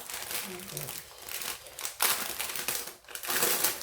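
Diamond art kit packaging being unpacked by hand, with crinkly plastic rustles and crumpling bursts that swell and fade in bouts, close and fairly loud.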